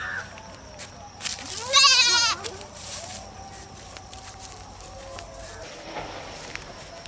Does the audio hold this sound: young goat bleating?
yes